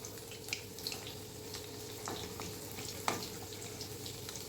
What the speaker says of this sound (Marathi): एक बाजू झाली आहे आता दुसऱ्या बाजूने आपण तळून घेणार